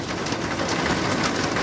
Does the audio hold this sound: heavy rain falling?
yes